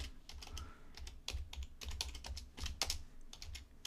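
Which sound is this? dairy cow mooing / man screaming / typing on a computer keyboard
typing on a computer keyboard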